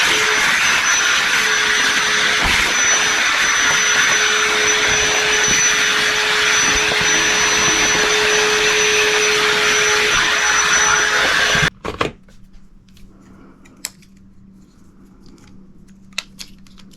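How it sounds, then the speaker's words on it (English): A vacuum cleaner runs loud and steady while cleaning a Munchkin boiler heat exchanger, a continuous whining roar that cuts off abruptly near the end, leaving quiet clicks and faint handling noises. "Now I'm just gonna go ahead and clean up and vacuum the boiler."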